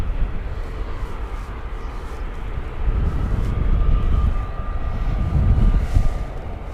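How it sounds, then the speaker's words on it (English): A British Airways airliner takes off from Gatwick Airport bound for Larnaca, its engines a loud, broad rumbling roar that swells and holds steady throughout. "as we've got British Airways heading off to Larnaca"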